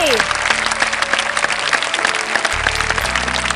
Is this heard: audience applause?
yes